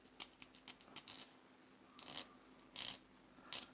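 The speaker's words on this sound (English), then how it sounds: "So what I want to do now is just file off a little bit of the actual rivet." A little of a rivet on a Ford Zephyr is filed off by hand. Faint, short rasping strokes come in a rough, uneven rhythm, with quiet gaps between them and no talk.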